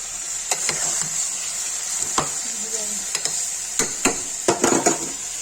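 Scraping and stirring of masala with turmeric and red chilli in a metal pressure cooker, with a steady sizzle underneath and several sharp clinks of a spoon against the cooker's side.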